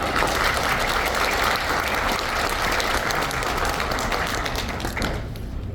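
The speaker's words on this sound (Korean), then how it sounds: "김병수님, 최윤서님, 이경아님, 홍용표 원장님 박수로 모시겠습니다." Sustained audience applause greets panelists taking the stage at a youth talk concert marking the 63rd anniversary of May 16, dense and steady throughout before thinning slightly at the end.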